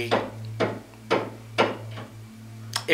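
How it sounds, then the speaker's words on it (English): Steady hammer blows drive nails into wood, about six sharp, evenly spaced strikes ringing close over a constant low electrical hum. "there's a lot of hammering and nailing"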